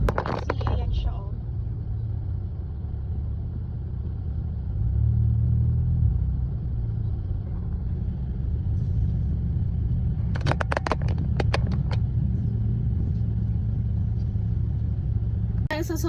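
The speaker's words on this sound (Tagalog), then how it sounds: "Sobrang traffic, guys." Steady low rumble of heavy traffic heard from inside a car, with engines idling and creeping along, a brief crackling burst partway through.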